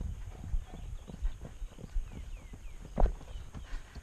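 Hooves clip-clop in a steady, even trotting rhythm as a horse is ridden in an equestrian schooling session, moderately close with soft thuds and no talking.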